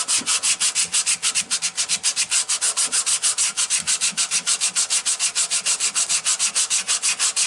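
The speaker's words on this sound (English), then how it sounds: "you want to be hand sanding it with the lathe off" Rapid, steady back-and-forth rasping of sandpaper rubbing on wood held on a stopped lathe, close and loud, with an even rhythm throughout.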